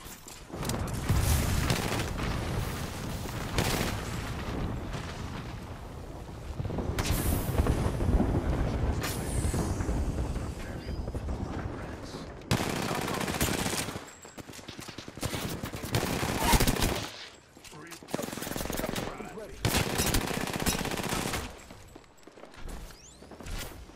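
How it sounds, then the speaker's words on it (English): Video game firefight with bursts of automatic gunfire and booming shots, loud and close, coming in waves separated by brief lulls over about twenty-four seconds. "Taking fire. Shots on me."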